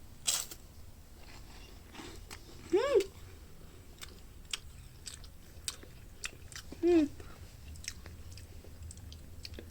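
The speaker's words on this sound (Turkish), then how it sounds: "Hem limon tadı geliyor hem ağzımda patlıyor." Lemon-flavoured popping candy chewed close to the microphone: soft mouth sounds with scattered tiny crackling pops across the clip, plus two brief vocal squeals.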